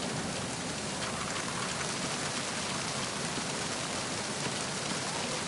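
Wind-driven downpour in the video game Metal Gear Solid 2: an unbroken, even wash of heavy rain noise, loud and close throughout.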